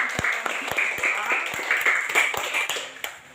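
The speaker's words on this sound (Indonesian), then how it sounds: "Tepuk tangan buat teman yang sudah melakukan kita" Classmates clap for a student in a classroom, a steady run of dense handclaps with a few sharper single claps standing out near the microphone, lasting a few seconds and thinning out at the end.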